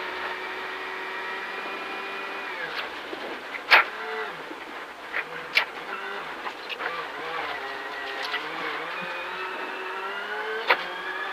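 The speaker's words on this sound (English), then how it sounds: "putting some revs up the hill." A rally car engine revs hard climbing a hill during a Sweet Lamb test, a continuous loud strained drone with rising and falling pitch and occasional sharp clunks and pops.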